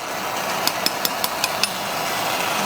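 Surgical chisel tapped against bone of the lumbar spine during endoscopic decompression surgery, giving six sharp, evenly spaced metallic taps over a steady hum of operating-room equipment.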